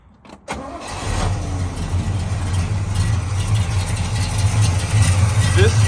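A 1969 Oldsmobile F-85 W-31 with a Holley carburetor cranks and catches within the first half-second, then settles into a steady, close, loud idle that rumbles evenly for the rest of the stretch.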